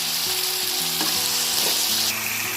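Tomato goes into a pan of frying onion and ginger-garlic paste for capsicum bath, giving a loud, dense, continuous sizzle close by, with a faint musical tone running underneath.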